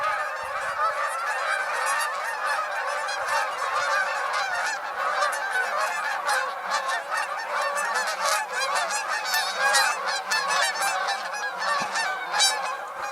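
A flock of geese honks steadily and loudly throughout, many overlapping calls forming a dense chorus as the birds head downriver, with no talking.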